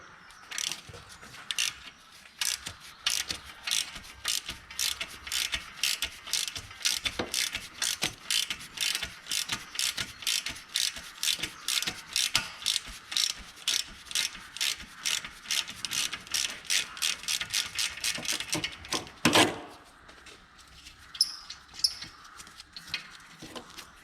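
A 12 mm socket on a ratchet turns a bolt on a Mazda MX-5 during clutch work, giving a fast run of crisp pawl clicks in steady bursts, close and clear, with a brief clunk near the end.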